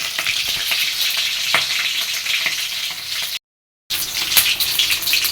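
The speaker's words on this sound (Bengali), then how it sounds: "এবার বেগুন দিছি বেগুন ভেজে নিব" Eggplant frying in hot oil in a pan, a steady loud sizzle with occasional crackles and a brief break, no talking.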